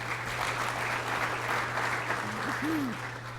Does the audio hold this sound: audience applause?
yes